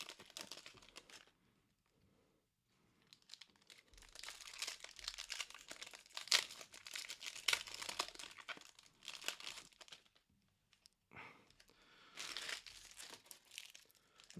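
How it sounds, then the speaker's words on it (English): AFL Footy Stars card packets are crinkled and torn open in close, bursty plastic rustles with brief pauses between them, and no one speaks. "these packets are extremely difficult to open."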